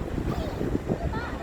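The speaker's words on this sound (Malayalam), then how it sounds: "അത് ശക്തമായിട്ടുള്ള കാറ്റും ഉണ്ട്." Strong sea wind blows in a steady, loud rush during rainy weather near the coast by Vizhinjam port, with rough waves beneath, heard from a moving vehicle.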